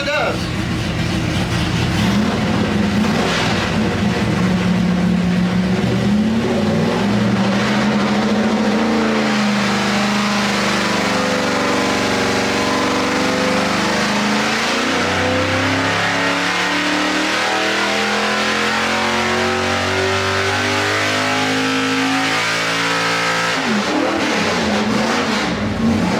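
Car engine fitted with a new Powell camshaft revved hard on a dyno, a loud sustained roar climbing steadily in pitch through a long pull before backing off at the end, with people talking over it.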